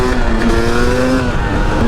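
A Yamaha YZ250 two-stroke enduro dirt bike with a Lectron carburetor and a street-legal kit revs steadily upward, a loud, buzzing engine note held close and constant with no talking.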